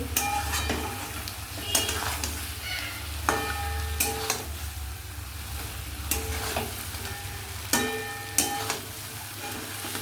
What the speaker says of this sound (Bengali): মিশিয়ে নিচ্ছি মাছগুলো